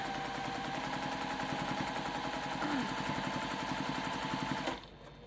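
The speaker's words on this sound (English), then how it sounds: "I come back to my machine, and I stitch down to the next corner." A home sewing machine stitches down the edge of a fabric mug rug, running in a steady, close whir with a fast mechanical pulse before stopping abruptly near the end.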